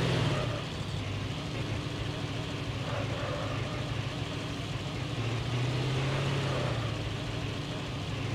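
A vehicle drives in the mobile shooter game Call of Duty Mobile, giving off a moderate, continuous engine hum that holds steady throughout with slight shifts in pitch.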